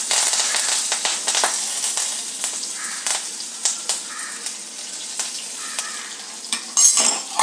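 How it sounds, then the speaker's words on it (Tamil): Mustard seeds spluttering in hot oil for South Indian rasam, a steady close sizzle broken by scattered sharp pops and crackles, with a few clinks of a spoon against the pan. "இங்கே கடுகு பொரியட்டும்."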